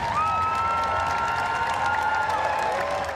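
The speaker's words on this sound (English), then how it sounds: "At Hyde Park, they crammed in for one last cheer." A large crowd packed into Hyde Park raises a sustained cheer and applause, broad and somewhat distant, with whistles and a few rising tonal sounds over the roar.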